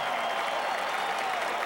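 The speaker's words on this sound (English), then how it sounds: "That's what the applause is for." A stadium crowd applauds at a 1987 CFL football game in Calgary between the Edmonton Eskimos and Calgary Stampeders, with steady, distant clapping spread across the whole stretch.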